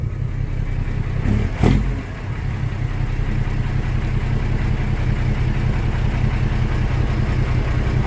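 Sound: car engine revving

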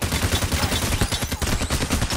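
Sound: gunfire in the video game Payday: The Heist

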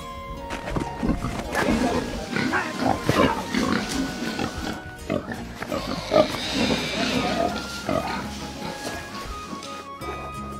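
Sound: pig grunting

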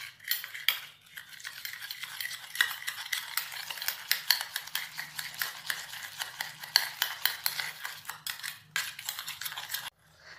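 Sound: stirring lemon juice and salt mixture with a spoon

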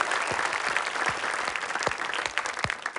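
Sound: audience applause for Rahmat Ababil

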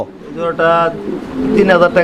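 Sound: fancy pigeons cooing

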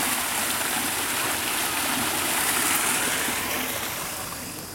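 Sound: artificial waterfall in a duck pond at a wildlife park

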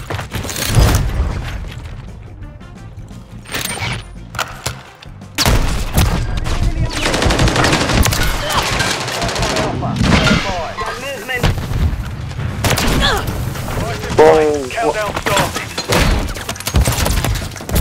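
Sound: continuous gunfire in the video game Call of Duty MW3

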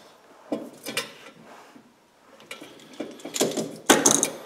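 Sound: drowning lock clipped onto beaver trap swivel

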